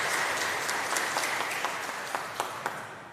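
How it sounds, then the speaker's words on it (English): Applause at a nursing college pinning ceremony honoring a student-designed pin, a steady wash of clapping from the audience that thins out, leaving a few separate claps toward the end. "So let's give a round of applause for a beautiful pin."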